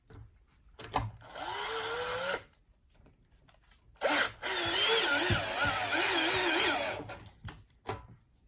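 A power tool tightens the rear axle bolts on a Levy electric scooter, running in two whirring bursts whose pitch shifts under load, with quiet gaps and small clicks in between.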